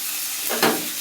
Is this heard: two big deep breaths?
no